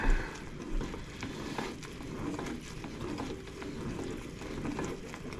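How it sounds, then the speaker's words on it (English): Peanut brittle mixture is stirred in a tall, stout pot, giving a quiet, continuous bubbling and scraping with faint clicks of the spoon against the pot. "And we're just going to stir."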